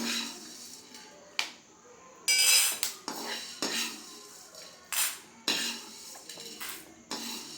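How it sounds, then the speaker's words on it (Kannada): A spoon repeatedly scrapes and taps against a metal pan and plate, irregular clinks and knocks close by, with little else in the background. "ಒಂದು ಪ್ಲೇಟ್ಗೆ ಸರ್ವ್ ಮಾಡ್ಕೊತಾ ಇದ್ದೀನಿ"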